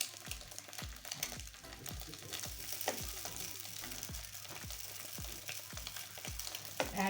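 Chowmein noodles with fried egg are stir-fried in a hot pan, with a constant sizzle and a steady run of utensil scrapes and knocks tossing the noodles.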